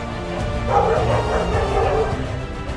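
Dogs at a stray dog shelter bark and yelp in a short, dense burst, fairly near and loud, with whimpering mixed in over a steady background hum.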